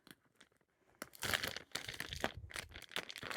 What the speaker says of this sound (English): it comes with these little like zipper things that you just stick on here and go across